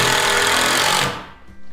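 A star-bit driver sinks 2.5 inch decking screws into wood, giving a loud, steady grinding whir that runs for about a second before cutting off abruptly, followed by a faint rattle.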